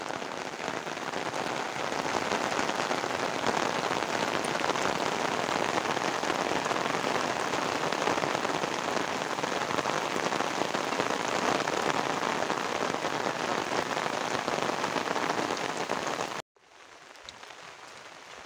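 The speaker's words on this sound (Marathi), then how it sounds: "ह्या साईडला तर खूप पाऊस लागतोय बघताय." Heavy monsoon rain pours over rice fields in Konkan, a loud, dense, steady roar of drops that continues unbroken for about sixteen seconds before abruptly dropping to a softer patter.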